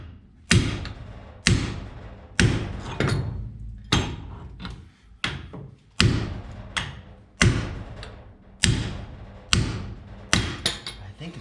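Heavy metallic hammer blows strike the CV joint and axle of a 1981 Volkswagen Westfalia, about ten sharp ringing strikes spaced roughly a second apart, close and loud.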